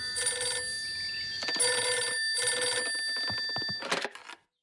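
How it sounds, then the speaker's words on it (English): A telephone rings in a children's cartoon, with a bright electronic trill that repeats in several bursts and then breaks into short chirps before it cuts off. "Hello, Mrs. Elf speaking."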